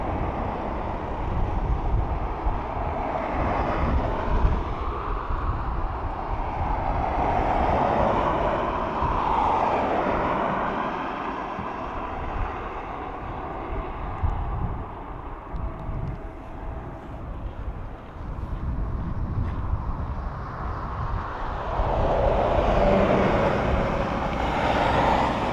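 A Eurowings airplane at Dublin Airport produces a broad, continuous rumbling roar, loud and sustained with gentle swells, mixed with wind buffeting on the microphone.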